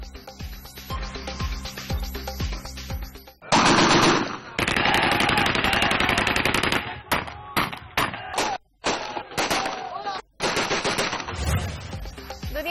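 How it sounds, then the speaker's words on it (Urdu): Celebratory aerial gunfire by party workers after a by-election win, long bursts of rapid automatic fire with a few brief pauses, loud and sustained, outdoors with a crowd faintly audible beneath. "کارکنان کی کھلے عام ہوائی فائرنگ"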